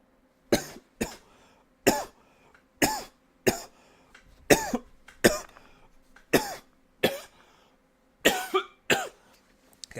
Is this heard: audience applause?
no